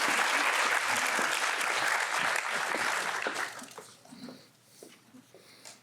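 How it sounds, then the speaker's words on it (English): A round of applause from the audience at a three-minute thesis finals, dense and fairly close for about three seconds, then fading into scattered claps and quiet room noise. "One more round of applause for Marielena."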